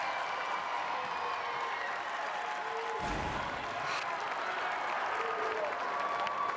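A crowd applauds steadily throughout at a Class C1 state championship volleyball match between Wahoo and Lincoln Lutheran, with dense, sustained clapping that swells briefly near the middle.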